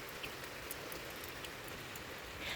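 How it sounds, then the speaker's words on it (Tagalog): Steady rain falling on a surface, a dense even hiss of drops with occasional louder patters, no voices. "Tapos ulan pa jud."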